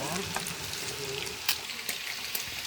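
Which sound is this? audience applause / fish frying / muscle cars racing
fish frying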